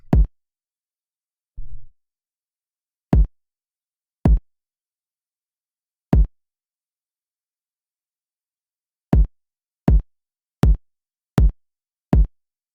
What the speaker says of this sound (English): So the kick by itself sounds like this.